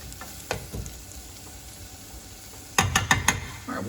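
A spoon stirs corn chowder in a pot, with scraping and sloshing that is scattered at first, then a quick burst of louder strokes near the end, close and alone.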